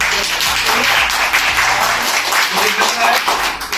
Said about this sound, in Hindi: जो बच्चे यहाँ क्लैपिंग कर रहे हैं